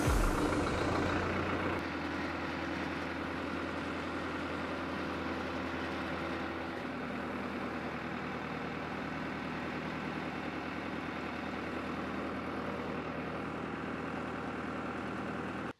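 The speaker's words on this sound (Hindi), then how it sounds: "पीयूष, अच्छा हुआ कि गाड़ी निकल गई" A heavy truck engine idles and rumbles steadily close by for the whole stretch, a loud continuous low drone with a brief hiss near the start and no clear pass-by swell.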